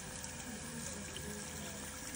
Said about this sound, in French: Bien rincer abondamment.